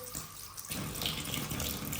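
A household tap starts running partway in and gushes steadily into a sink as a child washes hands, a close, continuous splashing flow.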